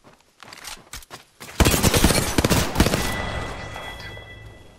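Gunfire in the video game Apex Legends: a few sharp shots, then a loud close burst of rapid fire that trails off into a ringing decay, no talk.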